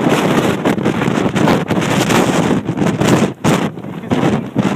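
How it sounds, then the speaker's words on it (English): Strong, gusty wind buffets the microphone on the summit of Mount Washington, a constant roar with repeated surges and brief lulls, loud and close, with no voices. "Even though it's sustained winds, it's the gusts that hit you every now and then"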